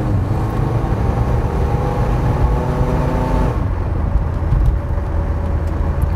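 A Ford Fairmont with an old drivetrain, 80 hp and 3.55 gears accelerates from inside the cabin, its engine drone rising steadily in pitch before settling into a lower, rougher rumble under constant road noise.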